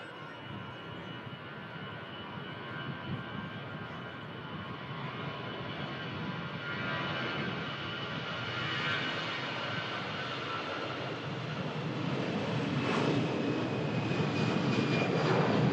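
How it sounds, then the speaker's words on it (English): A Lufthansa jet airliner begins its takeoff roll at Manchester Airport, its broad engine roar swelling gradually from a distance and growing louder and brighter throughout. "Lufthansa starts the departure roll."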